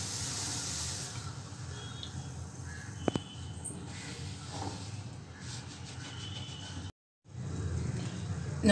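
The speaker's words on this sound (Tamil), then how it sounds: "இது ரெண்டும் சேர்ந்து கொதிக்கட்டும்." A pot of masala tea with half a cup of milk boils with a steady soft hiss and bubbling, close and even throughout, broken by a brief drop to silence.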